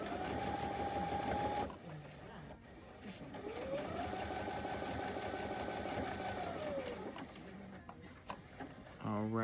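Sewing machine stitching a blind hem along a guided flange runs in two sustained, steady whirring bursts with a short pause between, close and loud, with a brief faster buzz at the end, likely the automatic thread cutter.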